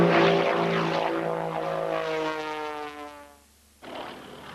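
A Sean D. Tucker aerobatic propeller airplane performs an airshow maneuver, its loud engine drone sweeping and shifting in pitch as it passes, cutting out briefly near the end before returning fainter.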